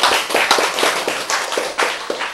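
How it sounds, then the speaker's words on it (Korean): A church congregation claps in a bright, rhythmic pattern of sharp hand claps, close and fairly loud, with a few uneven accents. "박수!"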